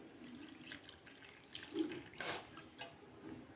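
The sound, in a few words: pouring sugar and jaggery water little by little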